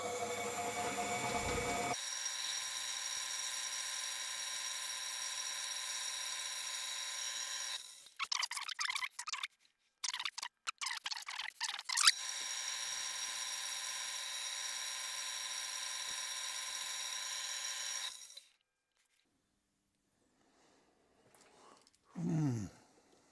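A machine cuts half a millimetre from a small part for a 1920s Raleigh oil feed, giving a steady high whine in two long runs, separated by brief bursts of rubbing and clatter, then silence.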